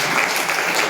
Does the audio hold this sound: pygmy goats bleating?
no